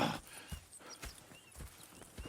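Horses clip-clopping in the video game Red Dead Redemption 2, a soft uneven series of hoof thuds at a walking pace, fairly faint with a brief whinny-like sound at the start.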